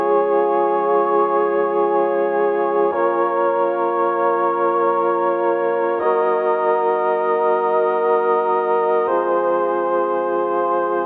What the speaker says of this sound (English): you want to start off with the organ.